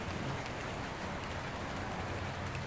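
Rain pouring in Dublin under a cloudless sky, a dense, even hiss of drops striking surfaces, steady and close with no talk.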